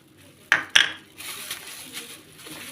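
A whole egg is added to chocolate chip cookie dough in a bowl, giving two sharp, close clinks in quick succession against the bowl, then quiet kitchen handling.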